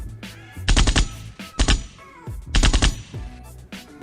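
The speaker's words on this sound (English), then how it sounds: "The gunshot." A gunshot sound effect from a Maono podcast mixer: several loud bursts of rapid gunfire, each a short volley of shots, separated by brief pauses over a low rhythmic backdrop.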